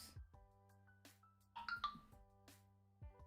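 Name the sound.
phone ringtone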